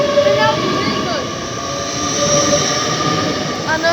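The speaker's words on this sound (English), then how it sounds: "The train is on its move." A train moving through Northallerton station, with a continuous loud rolling rumble, hiss and squealing wheel tones, heard close and steady throughout.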